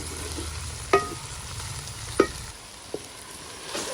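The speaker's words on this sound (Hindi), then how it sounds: "भिंडी माशाल्लाह से फ्राई हो गई थी, तो अब मैंने प्याज भी डाल दिए।" Okra and onions fry in a pan with a soft continuous sizzle, broken by a few sharp clinks of a utensil stirring against the metal, close by and fairly quiet.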